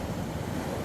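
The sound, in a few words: stormy sea waves on the beach at Lyme Regis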